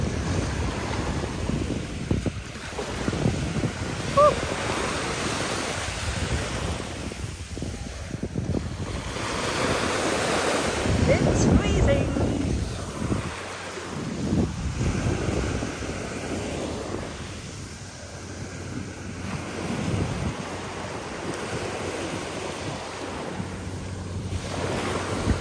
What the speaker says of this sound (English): This is the lovely beach